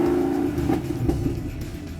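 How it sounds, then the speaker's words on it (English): A 2016 Cadillac CTS-V in Sport mode gives a steady, loud low exhaust drone while driving, with a sustained tone and no talking over it. "Sport mode is the setting I felt offered a great ride, terrific handling, and opened up the exhaust for that race car sound."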